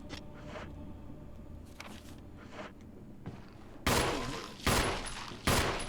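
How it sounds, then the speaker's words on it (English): Pistol shots ring out at a zombie in the video game Resident Evil HD, three loud sharp blasts in the second half after quieter thuds and game ambience, with no talking. "let's go ahead and use the pistol to take care of him"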